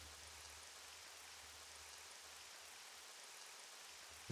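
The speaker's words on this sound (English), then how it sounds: "Sounds like it's already raining. If I hear the in-game sounds correctly." Steady rain hiss fills the clip, a constant broadband patter with a low rumble underneath, no voices. In-game rain from the racing game Le Mans Ultimate.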